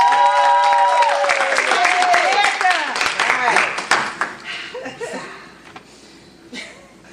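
Audience at a spelling bee applauding a contestant as she steps to the microphone, clapping mixed with laughter and chatter, loud at first then thinning and fading toward the end, with voices and music-like tones layered in.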